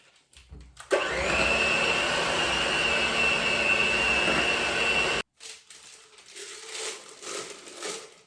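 An electric mixer runs steadily at high speed for about four seconds, whipping cream for a chocolate cake. The whir cuts off abruptly, followed by quieter scraping and stirring noises.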